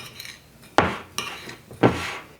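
A spoon works gingersnap crumbs and melted butter in a bowl, giving three distinct scraping, clattering strokes against the bowl separated by short pauses over a soft gritty rustle, close and fairly loud, with no talk.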